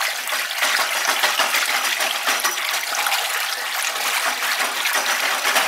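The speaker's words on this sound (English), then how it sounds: "let's give the glaze a stir, actually" Pottery glaze in a bucket is stirred, giving a continuous wet sloshing and swishing that stays steady and close throughout, with no talk.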